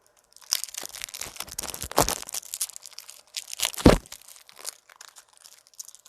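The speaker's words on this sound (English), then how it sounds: "let's see if I can unwrap this" Crinkling and tearing of plastic wrap being pulled off a tarot card deck, a run of close, sharp crackles in bursts with brief pauses and one louder crunch near the end.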